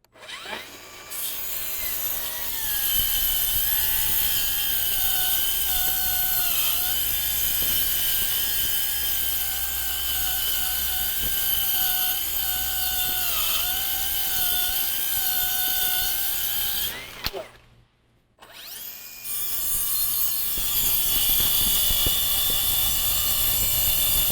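Milwaukee M18 cordless saws cut through a triple stack of 3/4 inch plywood, a loud sustained whining blade tone with grinding wood noise, a brief pause near the end before another cut starts.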